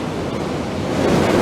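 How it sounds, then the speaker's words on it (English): Sea waves wash in at the water's edge on a Northumberland seafront, a steady broadband surf roar that swells slightly louder toward the end, with some wind buffeting and no talking. "We're right down on the seafront, on the water's edge"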